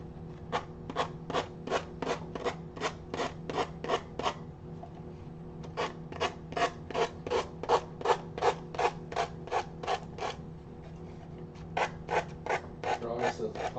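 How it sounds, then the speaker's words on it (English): Rhythmic back-and-forth sanding strokes rub away excess napkin on a dried craft piece, coming in quick runs of even scrapes with short pauses between, close and fairly soft. "I'm just going to sand off the excess napkin"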